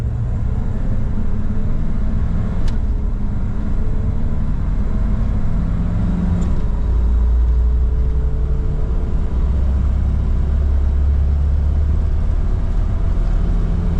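A 1970 Chevrolet C10 pickup engine drones steadily and loudly throughout a 0 to 60 run, a low rumble building as it accelerates, with a couple of brief sharp clicks early on.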